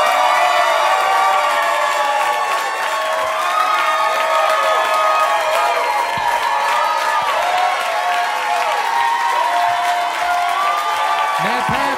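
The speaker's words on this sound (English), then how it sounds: "Everybody, clap it up for Matt Pavich." Comedy club audience cheering and applauding at the end of a stand-up set, with whoops and shouts over continuous dense clapping that stays loud and steady throughout.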